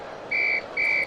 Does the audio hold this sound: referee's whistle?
yes